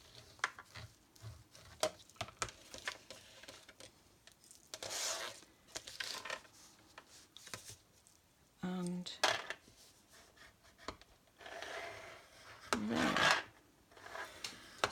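A scored fold line on craft card is burnished with a tool, giving soft, close rubbing and scraping strokes that come in short, irregular bursts against a quiet background.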